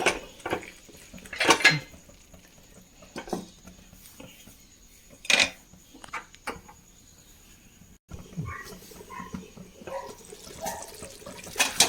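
A lid set onto a cooking pot of potato and brinjal masala makes a few sharp metallic clinks and clatters, with quieter kitchen rattles and faint water sounds between them.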